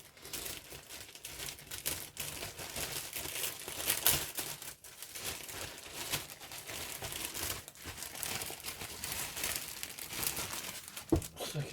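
A plastic bag of Special Hobby 1/48 Siebel Si-204D model kit parts is handled and crinkled continuously, producing dense, close rustling with a few sharper crackles.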